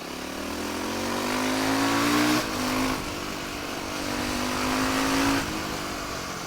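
An engine revs up twice, climbing in pitch with a rough buzzing tone, loud and continuous throughout, like a dirt bike accelerating.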